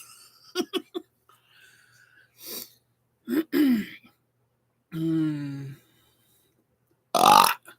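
Voluntary burps produced on command with no carbonated drink, several short bursts of varied length separated by pauses, one longer tonal belch near the middle and a loud harsh one at the end, close and fairly loud.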